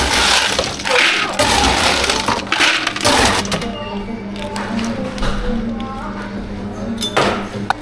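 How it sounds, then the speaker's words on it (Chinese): Ice cubes scooped at a milk tea and coffee drink shop, giving a busy clatter and crunch of ice against a scoop and container, with voices and shop bustle in the background. "没有冰块，要铲冰"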